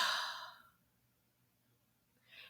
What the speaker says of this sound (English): Can you just take a deep breath in